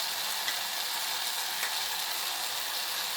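Green pigeon peas frying in a pan with onion and tomato, giving a steady, bright sizzle throughout with faint stirring clicks and no voices.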